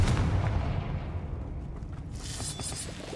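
A booming blast from the Confringo explosion spell in the video game Hogwarts Legacy: one loud, rumbling hit that fades into a low roar, with no voices.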